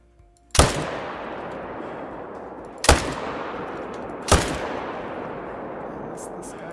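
Three loud, sharp rifle shots ring out in a deer-hunting video game, well spaced, each followed by a long fading echo against a quiet background.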